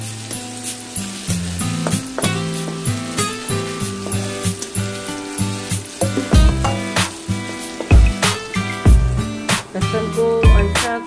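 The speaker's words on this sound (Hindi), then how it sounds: "लहसुन हमने कढ़ाई में डाल दिया है, इसे इस वक्त तक भुनें जब तक ये लाइट ब्राउन ना हो जाए।" Ground garlic fries in hot oil in a kadai, giving a steady close sizzle with crackly bursts, partly masked by music playing throughout.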